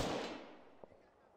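A grenade blast in ArmA 3 opens the clip loudly and decays into a fading rumble, with a faint sharp crack shortly after.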